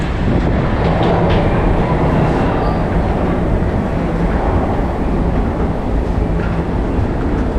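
A Toronto subway train rumbles through an underground station, a steady, loud, continuous roar of rails and cars with no voices.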